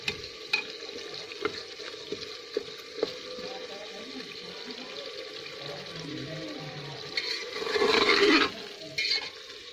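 Potatoes fry in a spice masala with a low, continuous sizzle and occasional stirring scrapes, rising to a louder burst of sizzling near the end. A voice talks over the cooking.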